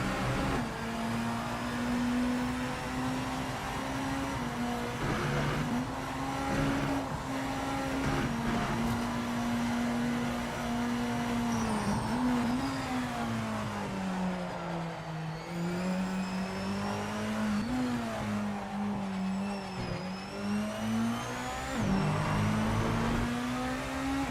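BMW V8 hybrid M LMDh hypercar engine from the Project Motor Racing game, droning steadily at high revs with rising and falling pitch through gear changes, loud and continuous without speech.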